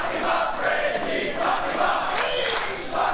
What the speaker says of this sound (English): And the crowd very much behind Akeem here, displaying their distaste for Utomi